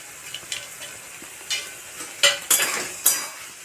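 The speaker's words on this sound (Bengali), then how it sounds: "ভালো করে আমি নেড়ে চেড়ে নেব।" Chopped tomatoes being stirred into a fish curry in a pan, giving a few sharp scraping and clinking strokes over a soft sizzle, close and fairly quiet, with no voices.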